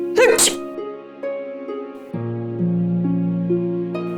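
A sharp sneeze bursts out near the start, loud and close, followed by sustained tonal background music from a Hindi television drama scene.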